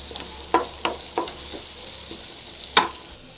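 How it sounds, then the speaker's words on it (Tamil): Shallots, green chili and crushed garlic sizzle in a pan, a soft steady fry broken by several sharp stirring clinks and scrapes, close and clear with no talking. "பூண்டு சேர்த்துட்டு அது நல்லா ஃப்ரை ஆகட்டும்"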